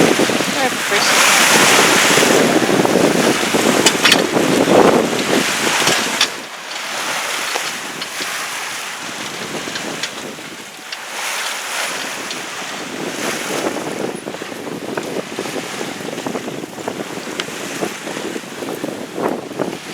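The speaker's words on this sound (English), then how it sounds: "The swell's been getting up a bit, it's quite rough" Sailing boat pitching through a rough sea swell, with loud gusting wind buffeting the microphone and waves washing and splashing close by, continuous and noisy throughout.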